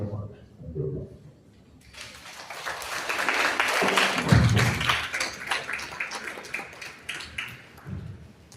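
Audience applause at a World Population Day report launch: a dense burst of clapping that swells, peaks midway and slowly thins out, following a short stretch of a speaker's voice.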